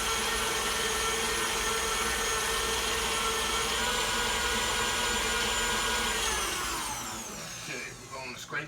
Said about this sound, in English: Cream the butter and sugar together